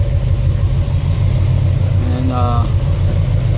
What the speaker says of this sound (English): So we got the engine running. You see it starts right up.